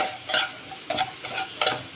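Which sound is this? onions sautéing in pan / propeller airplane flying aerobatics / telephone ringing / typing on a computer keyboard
onions sautéing in pan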